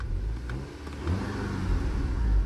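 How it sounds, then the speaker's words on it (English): A Mk3 Ford Focus RS engine given cold revs with a straight-pipe exhaust, a short rising rev heard fairly near, with a low engine rumble and intake whir and no talk. "Let's give it a couple cold revs."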